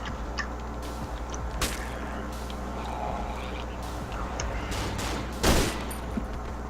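Pistol gunshots in the horror video game Cry of Fear sound as a few sharp reports over a dense, noisy game soundscape, with one louder, closer crack near the end.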